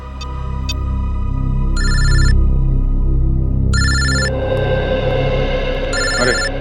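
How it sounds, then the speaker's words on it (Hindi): A telephone rings in repeated bursts of bright electronic trills, loud and close, over a steady background hum, set in a police investigation drama scene. "अरे तुम्हें ही फोन लगा रहा था,"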